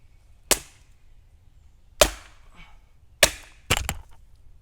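Sharp, loud cracks from a Firebird Ganzo FSA02 axe striking and splitting wood, four distinct chops spaced about a second apart with the last two close together, ringing briefly against near silence.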